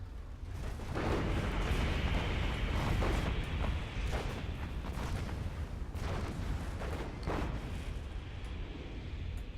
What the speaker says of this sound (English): You can see these pelters doing their work, keeping Nero's tanks at bay.